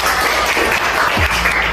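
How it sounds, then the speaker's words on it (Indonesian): Loud, dense clapping from a classroom full of students, a short burst of applause heard up close. "Tepuk tangan untuk kita semua."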